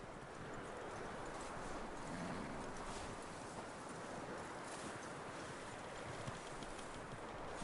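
Horse hooves clip-clop steadily in Red Dead Redemption 2, a continuous trotting rhythm under a broad wind-like background hiss, fairly even in loudness throughout.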